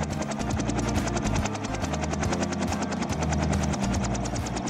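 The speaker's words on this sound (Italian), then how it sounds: "Un elicottero!" A cartoon helicopter flies close by in a children's animated show, its rotor giving a loud, steady, fast chopping pulse with a low engine hum throughout.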